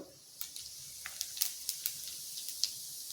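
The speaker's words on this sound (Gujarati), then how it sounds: "ત્યારબાદ આપણે અહીંયા અડધી ચમચી જીરું નાખીશું" Faint, steady sizzle of cumin seeds hitting hot oil, with scattered small pops and crackles over a soft hiss, no voices.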